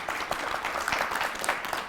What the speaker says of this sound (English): Let's give Pauline a round of applause.